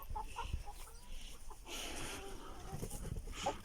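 Roosters and hens in a coop cluck and call repeatedly at moderate distance, with a louder crowing burst in the middle over faint background noise.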